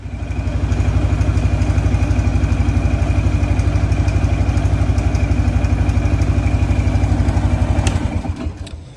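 Motorcycle engine running steadily with a low, rhythmic throb, loud and close for most of the stretch, then dropping off sharply near the end, with no talk over it.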